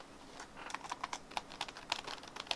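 Keys clatter in quick, uneven bursts on a vintage computer keyboard, a steady run of sharp clicks at close range with no voices over it.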